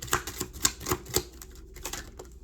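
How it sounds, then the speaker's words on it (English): A deck of tarot cards being shuffled close up, a quick run of crisp riffling flicks and taps with short pauses between bursts, quiet and without talk. "I'm going to shuffle one more time."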